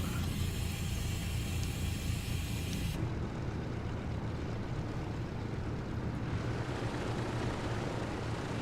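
A Douglas DC-3 taxis in a flight simulator game, its engines giving a steady, loud propeller drone with a broad rushing noise that shifts tone partway through, with no voices.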